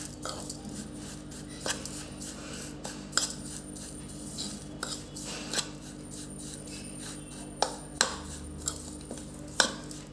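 Masala mix of spice powders, turmeric, salt and sugar stirred in a bowl with a spoon, giving soft rhythmic scraping and occasional sharp clinks of metal on the bowl, close up, with no talking.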